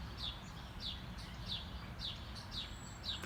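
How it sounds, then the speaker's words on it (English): Repeated bright bird chirps ring out at a regular pace outdoors, moderately distant, above a soft, constant low-pitched background hum. "just listening to the birds chirp"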